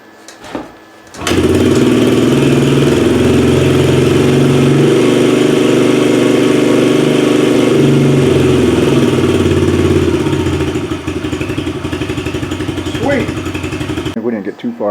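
A Yamaha TTR 110 dirt bike engine starts after a brief pause and runs steadily near the mic, its loud idle easing slightly toward the end.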